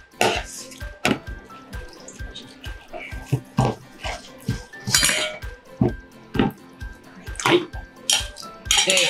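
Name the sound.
stirring starch slurry in a pan for shrimp chili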